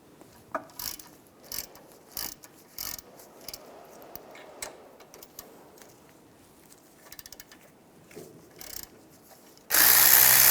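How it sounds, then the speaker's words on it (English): A ratchet fitted with a 7mm hex socket loosens the brake caliper slide pins on a 1998-2010 Volkswagen Beetle front wheel hub job, giving repeated bursts of close mechanical clicking and ratcheting with short pauses, no talking. "Using a 7mm hex socket, take those 2 slide pins out."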